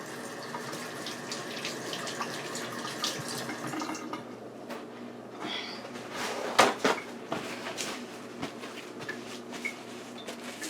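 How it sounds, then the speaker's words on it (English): Tap water runs into a kitchen sink during handwashing, a quiet steady splashing with a few clinks and knocks of handling near the sink. "let me just wash my hands."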